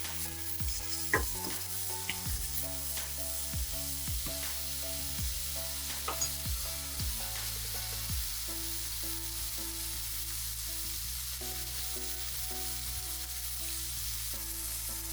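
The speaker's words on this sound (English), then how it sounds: "it's time to flip our steaks" Rib eye steaks sizzle steadily in a hot pan, a continuous close frying hiss with repeated soft clicks and scrapes as they are moved and turned; no one speaks.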